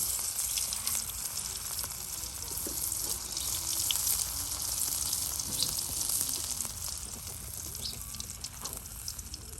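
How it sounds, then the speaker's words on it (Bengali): Cumin seeds and garlic paste frying in hot oil for a Bengali stinging catfish curry, a steady broadband sizzle with faint crackles running continuously and fairly close, no talking. "এই যে এখন আপনার দেওয়া হলো জিরা, তার সাথে আছে বাটা রসুন। হ্যাঁ, একসাথে দিয়ে এই যে আপনার তেলের সাথে ভেজে নেওয়া হচ্ছে।"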